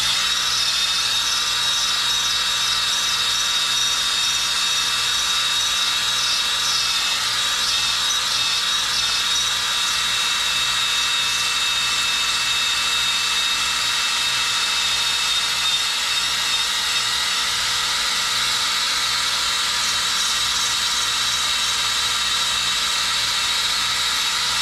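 A roll-lock wheel with a red Scotch-Brite pad abrading a WS6 Trans Am wheel, a continuous high, hissing whir held steady and loud from start to finish, with no talk over it.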